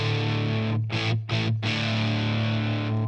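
An electric guitar played through a Boss DS-1 distortion pedal gives a sustained, saturated chord with rich harmonics, briefly choked twice in quick stutters before ringing out loud again.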